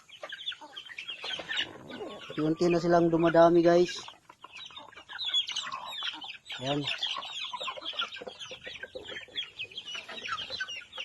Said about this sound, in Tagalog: Mga manok natin guys.